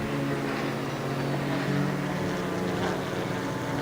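Leisure race car at Donington Park passing by, with a loud, steady engine and exhaust drone that swells slightly midway as it goes past the trackside spot.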